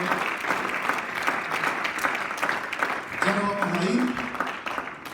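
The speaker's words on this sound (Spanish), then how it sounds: "Dale un aplauso fuerte al Señor en esta hora." Strong congregational applause in a church service, dense steady clapping filling the room, with a voice speaking over it partway through.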